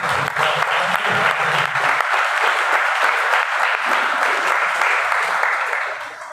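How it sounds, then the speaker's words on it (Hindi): Loud, sustained applause fills a church service, a dense wash of many hands clapping together that carries on steadily before fading at the end. "परमेश्वर के लिए और आराधना टीम के लिए जोरदार तालियां।"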